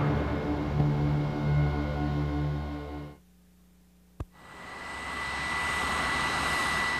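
Grumman A-6 Intruder jet landing aboard an aircraft carrier: loud, steady jet engine roar that cuts off abruptly, a brief near-silence broken by one sharp click, then the engine noise swells back up and holds.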